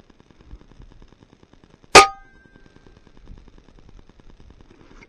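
A single sharp shot from an FX Impact .22 air rifle at extreme long range, one loud crack with a brief ringing tail over quiet outdoor background.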